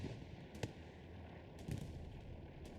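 Artillery fire in the video game Hell Let Loose, during an esports match, comes as a few faint, distant booms spread irregularly over a quiet background.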